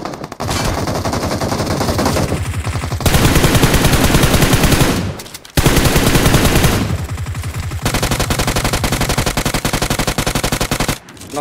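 Sustained loud automatic gunfire in a mobile shooter video game, long continuous bursts of rapid shots close by, broken by a few brief pauses, with no talking over it.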